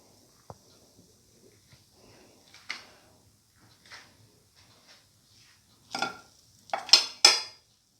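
Fried lamb patties with chili and fenugreek leaves are lifted out of hot oil onto a plate: sparse light clinks and scrapes of a utensil, ending in a few sharper metallic knocks.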